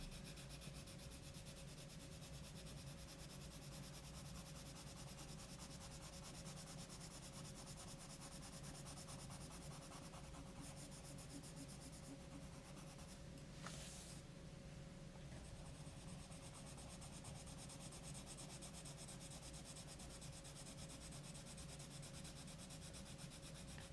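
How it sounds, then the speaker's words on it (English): Steady, very quiet rubbing of a pencil burnishing a drawing on paper at a desk, a continuous soft scratchy hiss with a brief brighter scrape partway through, no talk. "All I'm doing is just burnishing what I have already laid down into the paper."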